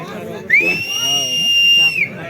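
A loud, sustained high whistle rising then holding steady for over a second, over crowd murmur and a speaking voice, from a spectator crowd at a wrestling bout.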